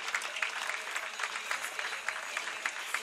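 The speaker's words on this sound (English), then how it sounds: "let's all give them a big round of applause" A crowd at a 2018 FIVB Beach Volleyball World Tour men's semifinal in Manila claps steadily, a dense, even patter of many hands heard at some distance, sustained without a break for a few seconds.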